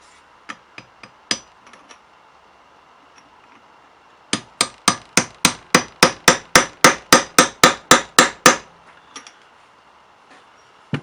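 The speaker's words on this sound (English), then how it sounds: "what I've got to do now is bend the tabs back on the tab washer" Sharp metal hammer blows bending back the tabs of a tab washer on a 1987 Honda CR250 motorcycle: a few scattered taps, then a fast, even run of about fifteen loud, close strikes, followed by a couple of light taps.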